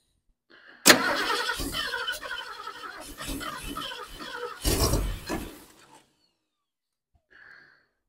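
A 1972 Ford Ranchero with an ignition fault cranks hard, its starter churning rhythmically for about five seconds without the engine catching, followed by silence and a brief faint sound.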